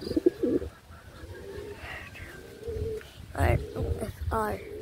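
Pigeons coo in low throaty bursts at close range, mixed with rustling and a few short higher calls, while a person talks over them.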